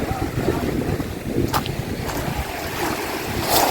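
Waves wash in against a steady wind roar outdoors by the sea, a continuous rushing sound with a brief splash or two.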